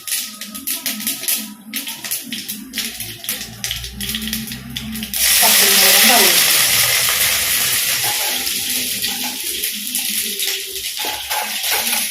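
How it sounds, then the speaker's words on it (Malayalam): Mustard seeds hit hot oil in a Kerala kitchen. After a few seconds of handling clatter, a loud, sudden sizzling hiss with crackle takes over and carries on steadily to the end. "കുറച്ച് കടുക് ഇട്ട് കൊടുക്കാം."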